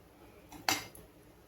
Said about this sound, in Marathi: आता हे तेल खूप आहे म्हणून मी हे तेल काढून घेते